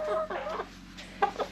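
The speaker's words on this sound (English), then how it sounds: "Here's the rooster." A rooster clucks close by in a few short, throaty bursts against a quiet background.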